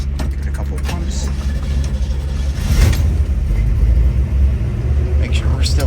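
A 1959 Chevrolet Corvette with a 327 V8 and four-speed manual cranks and catches, its low rumble swelling partway through and settling into a steady, close idle while someone talks nearby.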